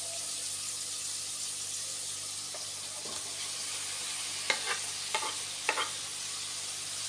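Amaranth greens frying in oil with chopped tomato stirred in, a steady soft sizzle throughout, broken by a few faint scrapes and then several sharper utensil scrapes toward the end.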